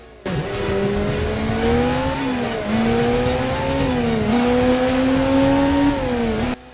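Motorbike engine in the video game Headhunter revving steadily and loud, its pitch rising and dropping as it shifts through gears in several sweeps, with no voices over it.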